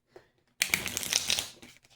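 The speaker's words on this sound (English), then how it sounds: "Shuffle these up since they don't want to fly out." A short, close burst of tarot cards being shuffled, a crisp papery rustle lasting about a second before it trails off.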